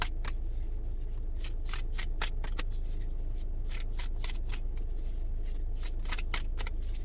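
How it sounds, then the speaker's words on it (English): Repeated crisp riffles of a deck of cards being shuffled, close by, in quick bursts with short pauses between them. "I'm gonna keep shuffling"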